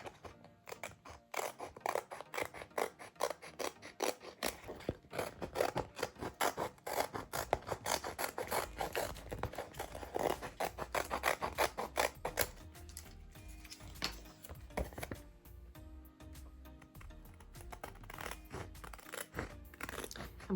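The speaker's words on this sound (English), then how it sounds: "I'm cutting right up against this vinyl." Scissors snipping through adhesive vinyl sheet wrapped on a glitter tumbler, giving a close, repeated rasping crunch of cuts in quick succession, with no talk.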